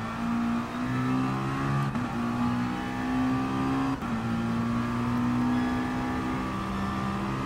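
McLaren race car engine at Suzuka in GT Sport, a steady high-revving drone close up that climbs through the gears, with brief dips at each shift.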